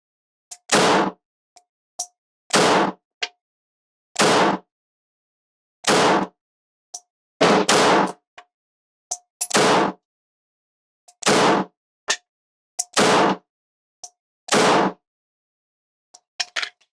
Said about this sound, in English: 10 shots at the cranium zone of each target, starting with that LCP Max again.